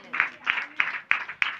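Rhythmic clapping from a church congregation, five evenly spaced claps in unison in a reverberant hall, fairly loud and alone without talk.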